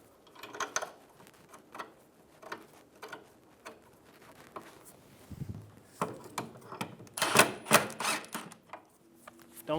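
A bolt on a rear sway bar bushing bracket of a 2007–2011 Toyota Camry is started by hand and tool, giving sparse clicks and metallic ratcheting taps, growing denser and louder toward the end, with no talking.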